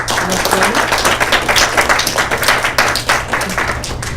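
Audience applause at an undergraduate research symposium, a loud, dense burst of many hands clapping together, sustained evenly throughout with no talk over it.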